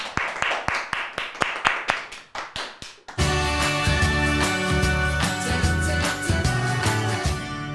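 A studio audience at a televised weight-loss show claps in a quick, steady run of sharp, close handclaps for about three seconds, then music swells in and carries on loudly.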